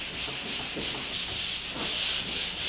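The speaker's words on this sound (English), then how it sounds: "This is a switch box I'm sanding over." Steady scratchy rubbing of carbide-grit fiberglass screen over dried drywall joint compound around a switch box, a continuous close abrasive hiss pulsing with each back-and-forth stroke, no voices.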